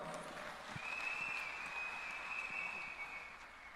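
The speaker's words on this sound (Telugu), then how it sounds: "చప్పట్లతో స్వాగతం." Audience applause welcoming a speaker at a foundation ceremony, a soft distant patter of clapping sustained for several seconds under a faint steady tone.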